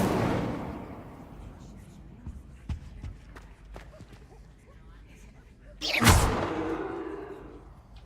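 An Incendio fire spell cast in Hogwarts Legacy bursts out as a sudden loud whoosh of flame near the end, after a quieter stretch of soft footsteps and light thuds.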